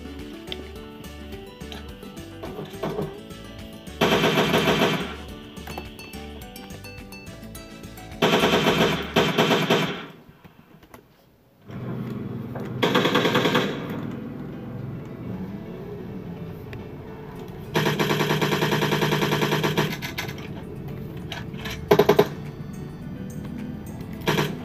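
Automatic assault rifle fire in a first-person shooter team match, converted from an automatic sniper rifle setup on PC: several loud sustained bursts separated by pauses, with game music and effects running underneath.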